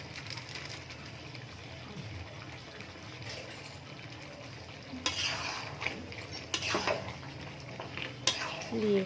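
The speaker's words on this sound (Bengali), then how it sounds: "আবারও একটু ভালো করে নেড়ে ছেড়ে নেব।" Chili chicken is stirred and fried in a pan: soft sizzling under repeated scrapes and clinks of a utensil against the metal, quiet at first, then busier and more clattery in the second half.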